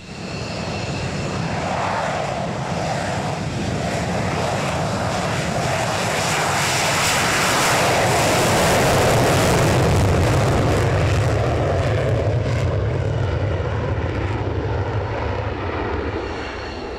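A loud, continuous roar from an F-16 fighter jet engine during the Frisian Flag air exercise fills the whole stretch. The broad, rushing noise swells slightly toward the middle and stays close, with no voices heard.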